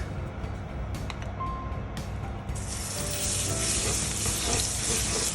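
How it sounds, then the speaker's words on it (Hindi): Garlic dropped into hot olive oil for bruschetta, a steady bright sizzle that swells suddenly midway and keeps hissing close up, with faint clinks of stirring and no talking. "एक बार ऑलिव ऑयल गर्म हो जाए तो फिर उसमें डालेंगे गार्लिक"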